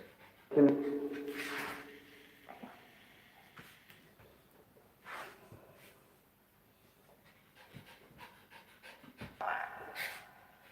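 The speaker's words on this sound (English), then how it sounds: "I heard dog again." A dog pants and whimpers in short, close bursts during a house investigation, mixed with faint rustles and soft knocks; quiet voices speak in between.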